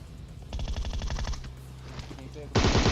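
Video game gunfire rings out as rapid, loud bursts of automatic fire, with a sustained stutter of shots and then a sharper, louder burst at the end, and a voice is faintly present.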